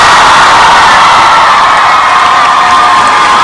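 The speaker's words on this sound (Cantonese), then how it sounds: "大家俾熱烈嘅掌聲" A concert audience at a live pop show in Hong Kong cheers and applauds loudly without a break, a dense roar of crowd voices, whoops and clapping close by.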